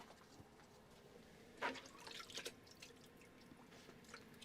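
Water drips and trickles softly onto petunia seedlings for a moment, a brief gentle splash of liquid against a quiet background.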